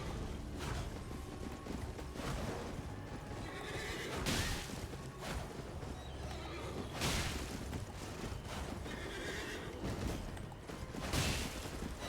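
Horses whinny and neigh repeatedly during a mounted fight in the Elden Ring video game, with hoof clip-clops, clashing combat effects and dense game noise throughout.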